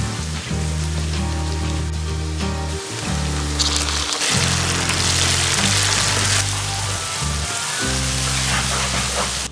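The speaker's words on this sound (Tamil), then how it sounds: "தக்காளி சேர்த்து நல்லா வதங்கிட்டுருக்குது." Chopped tomatoes with green chillies sauté in hot oil in a pan for a brinjal biryani gravy, giving a steady loud sizzle throughout, with a low droning hum underneath.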